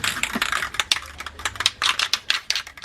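Aerosol spray can shaken hard by hand during an AE86 car build, a rapid run of sharp rattling clacks in an uneven rhythm, close and fairly loud with no talking.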